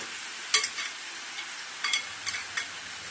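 Chicken perattu being stirred in a pan: a few soft scraping clicks of a spoon against the pan over a faint steady sizzle, with short bursts spaced irregularly and no voices.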